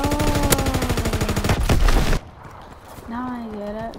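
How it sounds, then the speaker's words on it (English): Rapid machine-gun fire rattles loudly in Call of Duty: WWII, a steady stream of shots for about two seconds, then stops as someone shouts over the battle noise. "Who's shooting me?"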